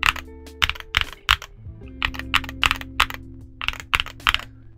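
Typing on a Luminkey65 keyboard fitted with Gateron Sylva switches, built with PC and aluminum plates, gives a close, loud series of crisp clacks in small bursts with short pauses between, and some keystrokes sound deeper than others.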